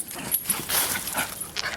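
A puppy whimpers and yips in a few short, faint, high-pitched cries close by, with soft rustling between them and no talking.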